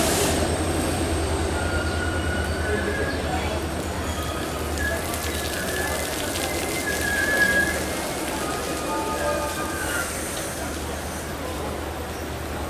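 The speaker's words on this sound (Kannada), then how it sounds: "ವಾಸ್ಕೋ ಹಜರತ್ ನಿಜಾಮುದ್ದೀನ್ ಎಕ್ಸ್ಪ್ರೆಸ್ಸಿಗೆ ನೋಡ್ರಿ ಇಲ್ಲಿ ಕಂಟಿನ್ಯೂಸ್ ಮಳೆ ಒಳಗೆ ಇದು ಟ್ರೈನ್" The Vasco–Hazrat Nizamuddin Express passenger train rumbles steadily past with continuous rolling wheel noise and faint metallic squeals, rain hissing over it throughout.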